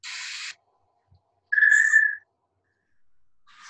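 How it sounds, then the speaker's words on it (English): An Allen's hummingbird's tail feathers produce a mechanical sonation during a courtship dive: a clear, steady whistle-like tone lasting under a second, set between short bursts of hissy buzzing and silence. "tail feathers in the top Allen's hummingbird here, produces a sound like this during a dive"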